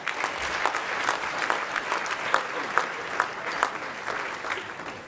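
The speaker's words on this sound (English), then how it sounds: "How about another round of applause?" Sustained audience applause fills a banquet hall at an ethnic business awards gala dinner, dense clapping from a large crowd with scattered sharper claps, steady and fairly loud for the whole stretch with no talking.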